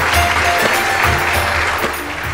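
An audience at a stage quiz program breaks into steady, dense applause: continuous crowd clapping at an even level from start to finish, with no clear voices on top.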